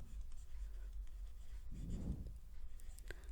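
A pen scratches on paper while Pythagorean triplets are written out for a math lesson; faint, close scribbling strokes, quiet and steady over low background hum, with a few brief clicks near the end.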